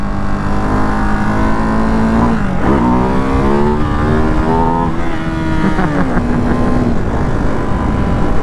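Ducati Hypermotard 698 Mono RVE single-cylinder motorcycle revving hard while pulling wheelies, a loud, steady engine roar rising and falling in pitch as the throttle opens and closes, close by.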